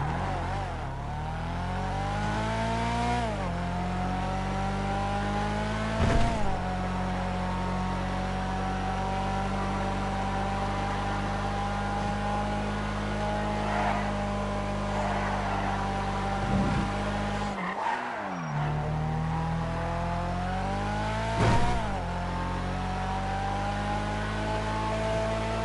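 The Remus, a two-door car in a video game, drives with a loud, steady engine drone, its pitch rising under acceleration and dropping sharply at several gear shifts spread across the run.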